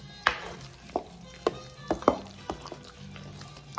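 Pasteles filling being mixed in a bowl for Puerto Rican pasteles, heard as a series of sharp, close scraping and knocking strokes at an uneven rhythm, about eight distinct hits with quiet gaps between them.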